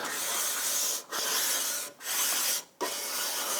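Guitar body edges, freshly routed wood, scraped against a running belt sander in three long passes separated by short breaks, a steady broadband rasping grind close to the listener with no talking.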